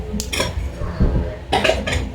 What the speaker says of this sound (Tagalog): Nagsasandok si Papa niya